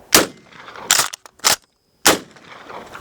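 A KelTec KSG-12 pump shotgun fires mini buckshot shells at a drawer: sharp, loud, close blasts, with a short metallic clatter between two of them and a quiet gap before the last one.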